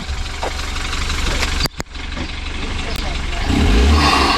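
A BMW F30 328i engine rumbles nearby under people talking, then revs up louder toward the end.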